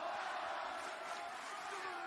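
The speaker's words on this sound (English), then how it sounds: "Crowd here in the Garfield Coliseum in full support of the Rated R Superstar." A wrestling crowd fills Garfield Coliseum with a steady, distant roar of cheering and shouting, a broad sustained wash of voices that holds level throughout the moment.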